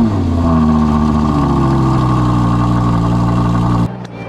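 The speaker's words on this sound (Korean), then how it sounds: "시동을 한번 걸어보도록 하겠습니다" An Audi R8 with its engine mounted behind the cabin starts up and revs with a loud, deep, sustained roar for several seconds, then cuts off abruptly into near silence.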